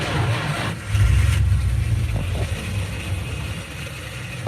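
A V8 engine with a two-barrel carburetor being cranked: a loud, low starter churn swelling at first, then a rough rumbling that fades slightly over several seconds.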